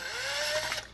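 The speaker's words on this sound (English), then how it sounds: "I like to do the top screws first. Just put the 2 top screws in." A screw driven into the plastic shell of a Sega Saturn 3D controller gives a brief, close mechanical ratcheting and grinding sound, heard alone for about a second.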